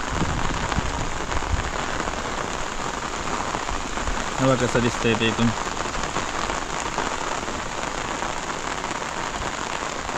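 Heavy monsoon rain pours down over village farm fields in a steady, dense roar, with a person briefly talking over it partway through.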